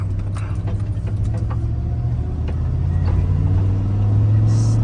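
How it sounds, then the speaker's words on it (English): Chevrolet Silverado 2500HD truck engine rumbling steadily with an exhaust leak in the pipe ahead of the muffler, a deep continuous low drone that swells slightly louder toward the end, no talking. "I think that's an exhaust leak in the pipe before the muffler, but you know, I might leave it too because I like the rumble"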